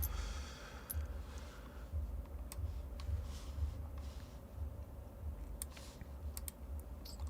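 Typing on a computer keyboard at a coding desk: quick, irregular clicks and taps run continuously, close and fairly quiet, with no talking.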